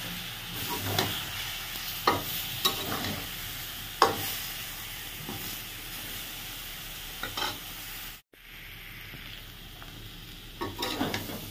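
Spiced potato and pointed gourd curry with a little yogurt is stirred and sautéed in a pan, with repeated spatula scrapes over a continuous sizzle and a brief dropout partway through.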